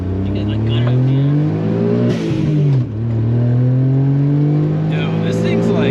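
A Suzuki Alto Works engine revs hard under acceleration, pitch climbing steadily, dipping briefly at a shift, then rising again, loud and close from inside the small car, with voices speaking over it.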